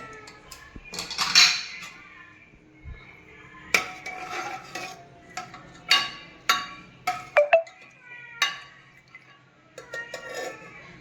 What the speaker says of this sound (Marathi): आता आपण झाकण काढून बघू कसं शिजवायचं.